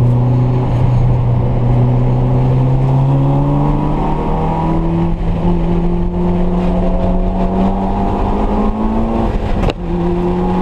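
A modified Mitsubishi Evo VIII driven hard on a race track, its engine droning loud and close and rising steadily in pitch through the gears, with a brief dip near the end as it shifts.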